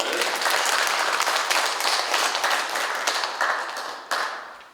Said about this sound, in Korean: 우리 한번 박수로 한번 격려합시다